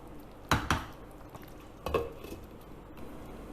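A spoon stirring chole curry with anardana in a cooking pot, with two close clinks of metal against the pot followed by softer scraping.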